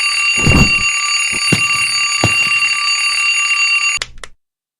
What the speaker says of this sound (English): Oh, it's just my alarm clock.